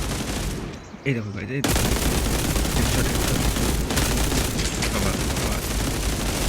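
Dense, continuous gunfire from a WW2 shooter video game, loud and sustained bursts, broken by a brief lull in which someone speaks excitedly.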